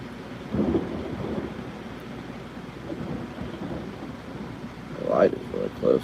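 A thunderstorm rumbles outdoors, with low rolling thunder swelling and fading over a constant wash of rain.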